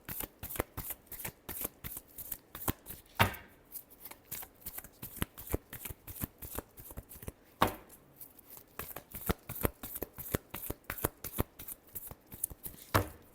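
Tarot cards being shuffled by hand, a close, quiet run of crisp riffling bursts repeating in a steady rhythm with brief pauses between.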